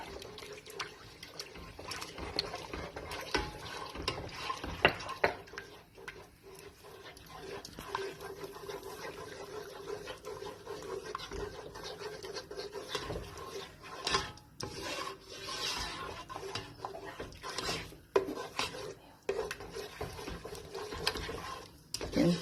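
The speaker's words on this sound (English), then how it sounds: "and you stir" A spoon scrapes and rubs steadily around a pot of honey mustard sauce cooking outdoors on a camp stove, a close, irregular scraping that goes on continuously at a soft level.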